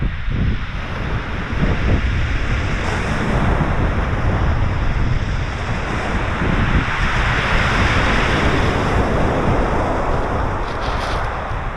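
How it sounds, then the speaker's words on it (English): Strong wind buffets the microphone in a constant loud roar on Chesil Beach at Ferrybridge, with a washing surf-like rush underneath and no voices. "Quite windy."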